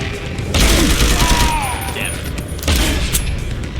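Machine pistol fire in Deus Ex: Human Revolution, rapid loud bursts of gunshots in a fusillade with short pauses between volleys, close and dominant amid game action.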